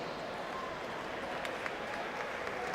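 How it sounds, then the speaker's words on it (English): Crowd applause for the third-place women's team at a YMCA national long course swimming championship in Ocala, Florida, a steady, moderately faint roar of clapping across a large venue. "And a nice round of applause"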